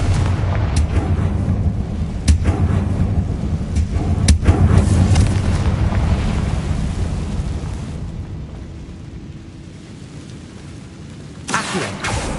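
A Confringo fire spell explodes in Hogwarts Legacy, a loud booming blast amid continuous rumbling game noise and combat effects, with several sharp impacts and a fresh burst near the end.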